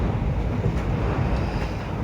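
Steady outdoor wind buffeting an open microphone, a continuous low rumbling roar with gusty swells and no pauses, loud and close throughout.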